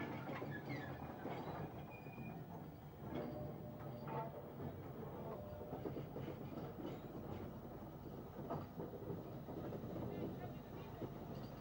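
A steam locomotive heads toward a recreated station at a Scottish preserved steam railway, its steady rumble and wheel clatter continuous and fairly close throughout.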